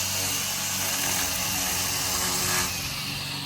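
A power trimmer buzzes steadily close by while a lawn is trimmed, a dense continuous motor whine with a slight swell near the end and no talk over it.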